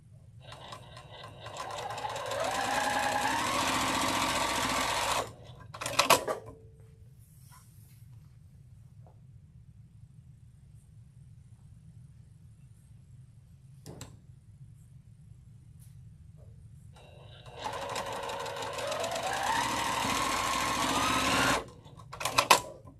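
A freshly serviced sewing machine runs in two steady bursts of about five seconds each, a loud rapid whirring with quiet room tone and brief clicks between them.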